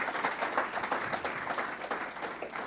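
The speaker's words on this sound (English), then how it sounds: "Round of applause again for Shana" Faint, steady applause from the audience at a university pitch competition, a brief stretch of soft mixed clapping heard from a distance.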